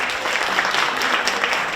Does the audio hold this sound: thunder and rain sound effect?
no